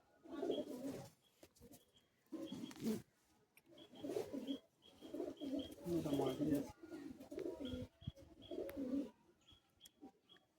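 Pigeons in a loft coo in repeated low, rolling bursts separated by short pauses, fairly close, with occasional faint chirps and some background voices.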